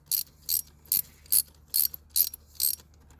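A hose clamp being tightened on a Nissan 350Z induction kit gives seven evenly spaced sharp ratcheting clicks, close and distinct against a faint low hum.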